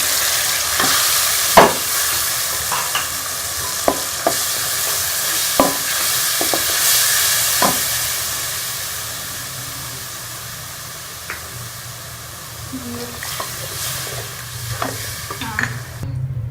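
Tamarind pulp and spices roasting in a pan, a steady sizzling hiss with frequent scraping and tapping of a spoon stirring, close and continuous with no talking.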